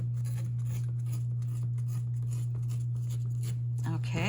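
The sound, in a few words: tearing an old book page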